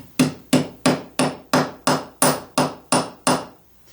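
A hammer strikes the end of a wire laid on a steel bench block while forging a linked bracelet: ten sharp, evenly spaced ringing blows, each with a brief decay, then quiet.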